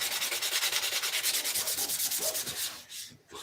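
Rapid back-and-forth sanding, loud and close, a brisk rhythmic rasp that slows and fades near the end.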